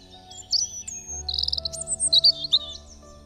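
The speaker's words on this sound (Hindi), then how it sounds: "एक थी चिड़िया।" Bird chirping sound effect in a Hindi children's radio story, a lively run of bright tweets and trills over a soft musical drone, close and clear with no talk.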